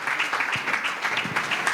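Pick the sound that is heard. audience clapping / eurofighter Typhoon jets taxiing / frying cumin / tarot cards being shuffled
audience clapping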